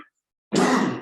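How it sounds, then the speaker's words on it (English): Single loud throat clearing or cough bursts out abruptly after a short silence and holds for about half a second, close and alone. "if you hear me coughing"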